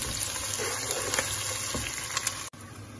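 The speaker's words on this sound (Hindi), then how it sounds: "अब ये प्याज थोड़ा सा फ्राई हो जाए तो फिर इसमें मैं ये मसाले डालूंगी" Onions fry in a pan with a steady, close hiss of sizzling oil that holds evenly throughout and cuts out briefly just before the end.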